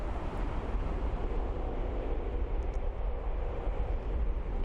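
An airliner landing at Frankfurt Airport, a broad steady roar of jet engines and rushing air heard close and loud, with wind buffeting the microphone throughout.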